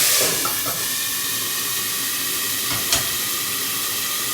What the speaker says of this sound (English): add a little bit of boiling water to the lid, so it'll create steam